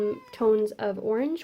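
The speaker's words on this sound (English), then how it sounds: "that's my cat meowing" A domestic cat meows several times close by, drawn-out rising and falling cries overlapping a person who keeps talking.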